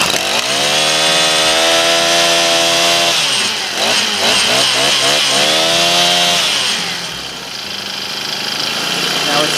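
Small lawn equipment engine running loud and close, its steady drone rising and falling in pitch as it revs and settles into an idle, with brief talk over it.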